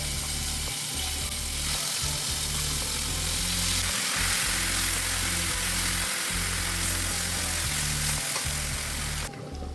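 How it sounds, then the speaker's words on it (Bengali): A ground paste of cashew, melon seed, ginger and tomato fries steadily in a pan for kohlrabi curry, a loud close sizzle over a low rumbling hum with occasional stirring scrapes and no voices. "এবার এই বেটে রাখা মশলাটা কাজু মেলন সিডস আদা টমেটো এটা দিয়ে দেবো এটা ভেজে নেবো ভালো করে"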